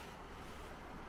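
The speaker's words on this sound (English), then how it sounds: "Actually, I think it's water." A steady, broad rush of distant flowing water echoing in a Scottish Highlands valley, even and unbroken, filling the air like a wide hiss with no other sounds.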